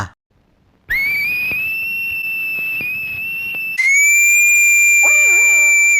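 A loud, sustained whistle held on one pitch, then jumping higher and continuing, ending with a few wavering warbles; no talking.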